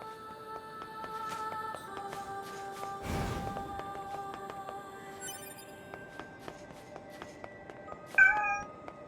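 A cat in the NieR:Automata video game meows over and over, with repeated short calls set against game music and ambient tones, plus a sharper burst near the end.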